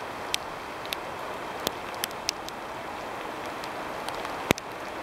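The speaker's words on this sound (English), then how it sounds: "Rain is getting a bit stronger" Rain falling in a Finnish forest in early May: a soft, even patter with scattered sharper drops tapping close by, one louder hit near the end, all without any talking.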